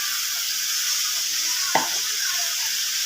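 Chopped chicken meets a hot pan with one sudden crackling burst over a constant loud sizzle, and no voices.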